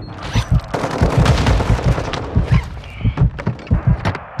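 Loud, close gunfire in Call of Duty: Modern Warfare II, with rapid shots and heavy booming hits that pound in an uneven rhythm and grow more spaced out toward the end.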